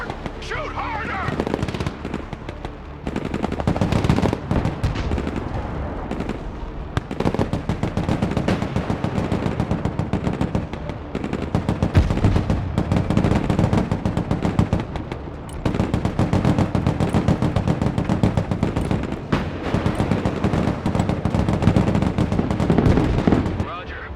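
Sustained automatic gunfire and bursts of shooting from the video game Broken Arrow fill the whole stretch, dense and loud with steady rattling, mixed with battle noise and shouted voices.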